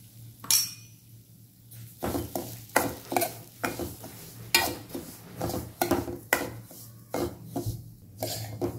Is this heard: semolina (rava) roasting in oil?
yes